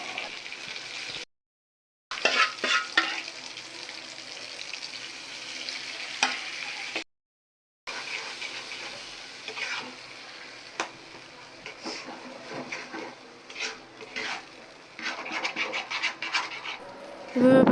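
Lentil paste stirred and fried in a pan with ginger-garlic paste and garam masala, giving a steady close scraping sizzle with two short breaks of silence and brief clatters.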